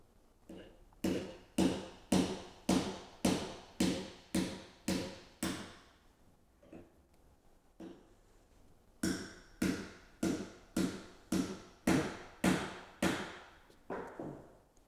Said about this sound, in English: Keeping the axle and bearing centered, hammer the bearing past the drive side bearing seat, then hammer it into the drive side bearing seat.